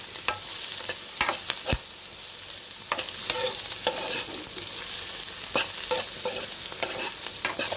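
Cashews frying in a pan for a gravy, a steady sizzle broken by repeated scraping and clinking of a spoon stirring them, close and clear with no talking.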